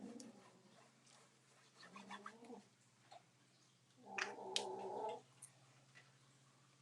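Cats fighting, low growls and throaty yowls rising in two short bursts, faint and close with quiet gaps between, no talk.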